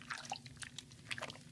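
Water trickles and drips softly while soap is rinsed off a guinea pig during its bath, in quiet, close, irregular splashes and droplets.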